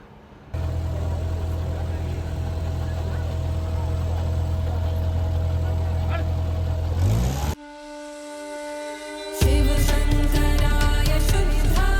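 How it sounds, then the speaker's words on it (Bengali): A boat engine idles and pulls away from Namghat on the Ganges at Varanasi, a steady low rumble that cuts out, then returns louder with a heavier throb, carrying on without talk. "আমাদের বোট এখন নমঘাট থেকে ছেড়ে দিল"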